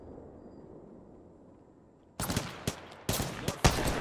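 Flatline assault rifle gunfire in Apex Legends, several loud close bursts in quick succession after a couple of seconds of quiet background.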